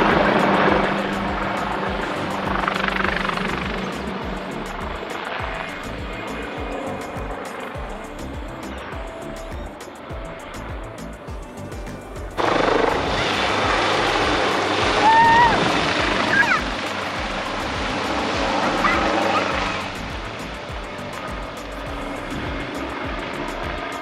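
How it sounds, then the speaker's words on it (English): A Westpac rescue helicopter's steady engine and rotor drone fills the air, shifting in tone as it passes, mixed with broadband noise and a few faint chirps. "the Westpac rescue helicopter came up and had to rescue someone off the head"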